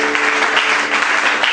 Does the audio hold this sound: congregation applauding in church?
yes